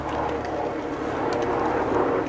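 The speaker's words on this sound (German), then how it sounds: "Heute ist Flugzeugtag." A fixed-wing airplane flying overhead, heard as a steady, broad roar that holds at an even, fairly loud level for about two seconds with no other sound.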